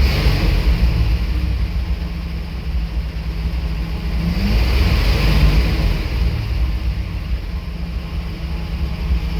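Engine of a yellow truck, recently put back together, running with a steady mid-pitched rumble that swells as it revs around the middle, close and loud throughout with no talk.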